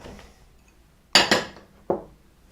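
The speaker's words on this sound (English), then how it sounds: "gonna take all these ingredients and just toss them into our big salad bowl" Salad ingredients for an Italian summer salad with salami and artichoke hearts drop into a big salad bowl. There are two quick clattering thumps close together, then a third softer one a moment later, up close and without talk.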